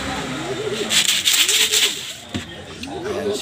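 Racing pigeons coo in repeated low, rolling phrases while being brought in after a race release, over a steady rubbing and shuffling noise with a brief knock near the end.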